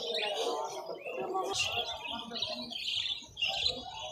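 Busy birdsong fills the air at a bird market in Mirpur, Dhaka, many small birds including Bengalese finches chirping and twittering at once, with a low crowd murmur underneath.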